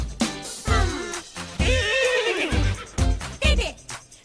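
A voice imitates a horse's neigh, a long, wavering whinny that rises and falls, with short vocal sounds before and after it.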